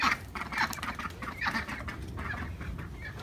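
Ducks quack in a busy, close chorus of overlapping honking calls mixed with clucking from nearby fowl, continuous throughout.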